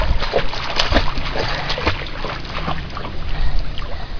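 Someone swims and kicks in water, making loud, close, continuous splashing and sloshing with irregular bursts of spray.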